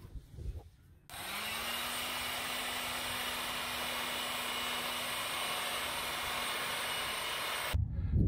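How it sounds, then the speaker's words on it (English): A heat gun blows steadily to shrink heat-shrink tubing over soldered wires during a generator installation in a school bus conversion, a loud even whoosh with a low hum running for about seven seconds before cutting off. "They're soldered and ready for the heat gun to shrink the shrink wrap."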